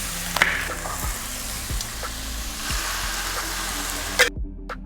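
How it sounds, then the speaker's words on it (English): Beef and vegetables frying together in teriyaki sauce in a hot pan, a steady close sizzle with scattered clinks and scrapes of stirring, cutting off abruptly at the end. "fry it all together with the remaining bits of our sauce"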